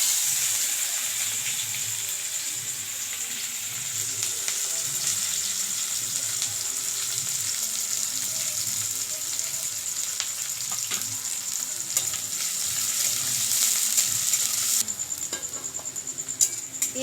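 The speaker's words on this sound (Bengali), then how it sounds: "ফোড়নে দিয়ে দিচ্ছি আস্ত গরম মশলা, পেঁয়াজ কুচি দিয়ে দিচ্ছি।" Chopped onions and whole garam masala fry in hot oil, making a steady, fairly loud hiss and sizzle that lasts throughout, with faint clinks of a stirring spoon.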